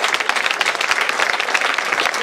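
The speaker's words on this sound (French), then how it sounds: "sous les applaudissements fleuris du public" A crowd at a cycling race awards ceremony claps warmly and continuously, dense close applause with quick individual claps standing out throughout.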